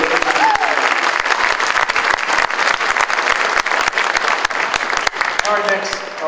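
Steady applause from a crowd at a county prom promenade for a couple being introduced, a dense, continuous patter of many hands that lasts throughout.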